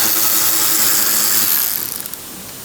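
A ratchet with a 7mm socket loosens a bolt during a thermostat housing install on a 2018 VW GTI: rapid, close metallic pawl clicking in a steady run that thins out and stops just before the end, with no talk.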